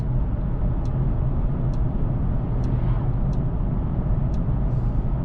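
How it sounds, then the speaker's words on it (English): A 2025 Mercedes-AMG E53 sedan cruising in electric mode, heard from inside the cabin as a steady low road and tyre rumble with no engine note, a few faint high ticks spaced about a second apart. "Now we travel in electric mode for a change."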